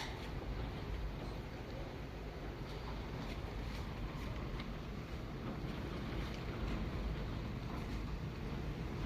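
Gusty wind sweeps in suddenly ahead of a summer storm after a hot, still day, a faint broad roar of wind buffeting the microphone that rises and falls in steady rushing waves without speech.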